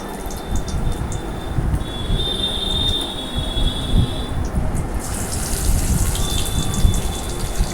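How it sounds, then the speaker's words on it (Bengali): Topsa fish fried in hot oil on a rainy day: a steady, close crackling sizzle with a dense hiss that continues throughout, with no talking. "গরম তেলের মধ্যে ছেড়ে দিচ্ছি।"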